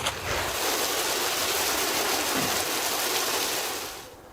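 Water pours steadily onto the soil around a newly planted bare root fruit tree in a small home orchard, a continuous rushing hiss lasting about four seconds before tapering off.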